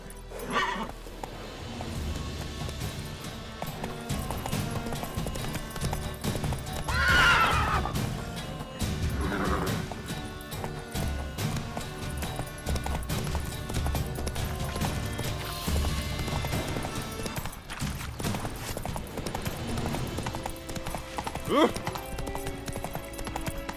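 A horse in The Witcher 3: Wild Hunt video game gallops with steady clip-clopping hooves and lets out a couple of neighs, while a voice talks over the action.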